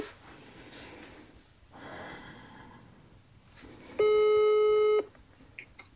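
Telephone call tone sounding once as a steady electronic beep lasting about a second, clear and close after quiet breathing and room noise.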